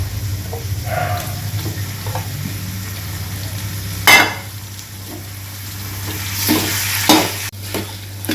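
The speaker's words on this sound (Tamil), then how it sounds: "இது ஒரு 2 நிமிஷம் அப்படியே ஃப்ரை பண்ணிக்கணும், அதாவது வதக்கிக்கணும்." Steady sizzling of chicken frying in a pan, with occasional stirring scrapes and a brief louder hiss midway, no voices.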